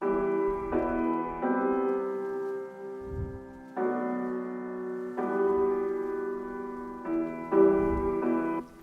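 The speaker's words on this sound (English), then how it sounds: "Which is a mixture of Neuer piano, which was very soft, and a Nexus piano." Soft layered synth piano blending a gentle Neuer piano patch with a Nexus piano, playing sustained chords that change every second or so in a steady house progression, alone with no voices.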